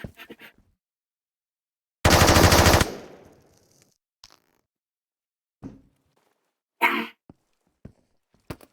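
A gun fires in the video game Escape from Tarkov: a loud rapid burst of about a second, followed by a few sharp isolated shots and clicks spread through otherwise quiet moments.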